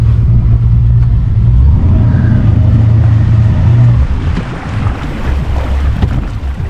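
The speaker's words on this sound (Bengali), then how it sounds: "সুরজ আর কমল দুজনে আমাকে স্পিড বোট রাইড করতে নিয়ে যাচ্ছে" A speedboat runs across open water with a loud steady engine drone and rushing wind and spray, recorded close on board, and the engine tone eases near the end.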